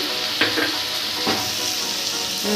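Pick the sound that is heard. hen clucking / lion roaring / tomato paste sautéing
tomato paste sautéing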